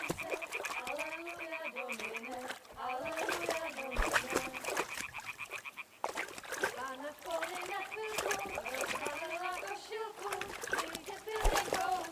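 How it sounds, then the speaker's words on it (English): In Kingdom Come: Deliverance II, a thrown stone splashes into water in short bursts. Steady frog croaking and voices talking run throughout the scene. "Throw a stone in the water near her to lure her away"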